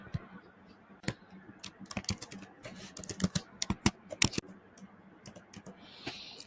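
Irregular bursts of computer keyboard typing, close and crisp, with quick clustered keystrokes and short pauses, plus a faint click near the end; no voice over it.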